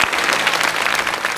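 Studio audience on a Tamil TV children's show claps steadily and loudly, a dense, even burst of applause lasting about a second and a half with no talk over it.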